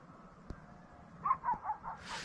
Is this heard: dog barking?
yes